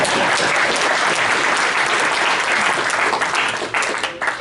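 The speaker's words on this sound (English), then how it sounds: "Round of applause." Steady round of applause from an audience at a community member meeting, dense and loud throughout, thinning slightly toward the end.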